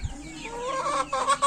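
A Rhode Island Red chicken with a cold, kept in quarantine in a small backyard coop, gives a close, clear run of soft clucks that rise into a few louder, sharper calls.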